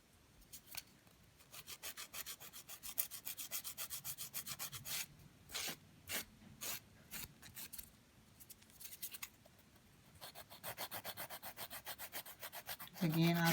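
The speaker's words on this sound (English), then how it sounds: "I'm filing on the sides." A nail file rasps against fingernails in quick scratchy bursts along the sides of the nails, soft and close, pausing between strokes, with no voices.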